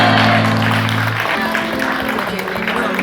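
Applause for Cristian at a gathering of retired education workers, a burst of clapping with crowd noise that starts loud and then tapers, with voices over it.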